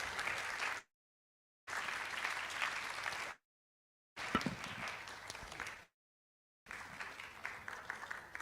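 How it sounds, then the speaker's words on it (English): An audience at a public lecture claps steadily for the speaker being introduced, the dense applause broken by several abrupt gaps of silence where the sound cuts out. "Please let's keep clapping."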